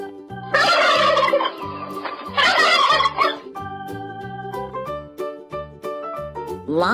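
A turkey gobbles in two loud, rapid rattling bursts, followed by a steady run of tonal, music-like notes from a children's animal-sounds learning game.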